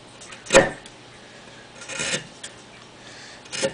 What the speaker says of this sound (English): So I'm just going around and working that bevel in.